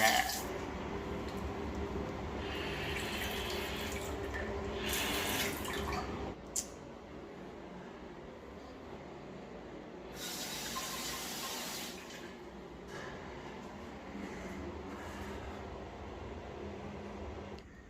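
Shower water runs in a bathroom in Albania, a steady close splashing hiss that swells louder in a few stretches as the spray shifts, with faint background murmurs.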